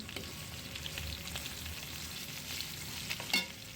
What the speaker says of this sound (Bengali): এটা একটু তেলে ভেজে নিয়ে